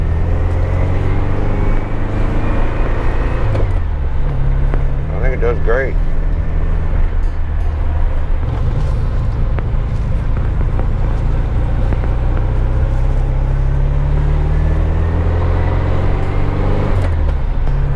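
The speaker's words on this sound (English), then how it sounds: "it's got that big 110 cam in it. Sounds like a Harley to me." A 1974 VW Super Beetle engine fitted with a big 110 cam idles and runs with a deep, steady low rumble close by, continuous throughout, while people talk over it.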